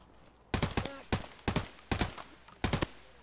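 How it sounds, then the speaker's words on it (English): Gunfire from the video game Escape from Tarkov: five loud, close bursts of rapid shots, spaced about half a second to a second apart, with no clear talking over them. "I'm getting shot at and I can't see them."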